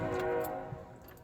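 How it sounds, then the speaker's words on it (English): A passing train sounds a steady, sustained horn at moderate distance, heard outdoors with faint background noise and no talk. "so there's the train, everybody."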